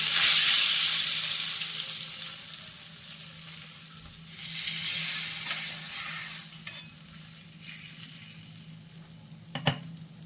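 Hot ghee sizzles steadily with a loud crackling hiss as a spice tempering is poured over hot khichdi, gradually fading, then a sharp clink near the end.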